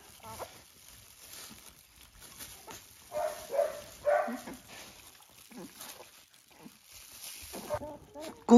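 Hungry newborn puppies, a litter of ten born to a stray mother dog, give thin high cries and whimpers in short bursts, fairly close, while people talk softly nearby.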